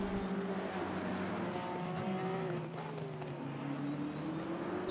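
Sim racing cars powering through the final corner at Paul Ricard: a steady, loud drone of several engines with gliding pitch sweeps as they accelerate, and no talk over it.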